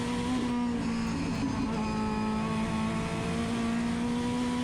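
High-powered car engine capable of 1,500 horsepower at Sydney Motorsport Park, a sustained loud droning rev with a strong steady tone and shifting harmonics, heard close and alone.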